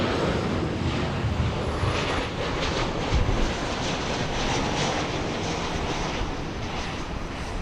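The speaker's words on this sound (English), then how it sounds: "This one coming in from Las Vegas, flight 2210. A 737, 800 next generation, flying for 37 minutes." A Boeing 737-800 airliner arriving at LAX roars steadily nearby, a loud, sustained broadband jet rumble and whoosh holding level throughout with no talk over it.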